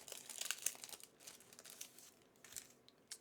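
Soft crinkling and tearing of Magic Secret Lair card packaging is heard close and fairly quiet, with a burst early on and then sparse rustles and small snaps.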